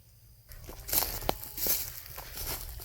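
Footsteps crunch through a dry sunflower dove field in Georgia, planted with millet and corn, during a rain-starved late June: several close, uneven steps rustling over brittle growth, alone with no voices.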